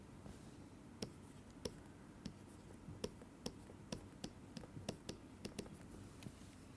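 A lecturer writes on a board during a physics lecture. Faint, irregular taps and strokes sound against a quiet room hiss, with no talking.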